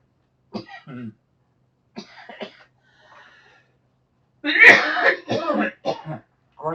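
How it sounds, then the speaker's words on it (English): A man's coughing fit: several harsh, close coughs and throat clearings in quick bursts, separated by short pauses, with no talk. "Great time to have a coughing fit"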